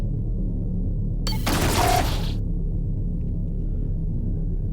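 A single short burst of spaceship weapon fire from Rebel Galaxy Outlaw cuts in sharply over a steady low engine rumble, lasting about a second before the hum continues alone.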